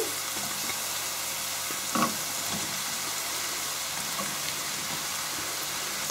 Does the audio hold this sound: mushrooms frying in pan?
yes